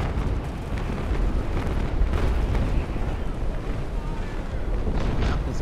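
Naval Action video game sea battle, with a continuous low rumble of cannon fire and booming broadsides over wind and water noise, heard beneath players talking over voice chat.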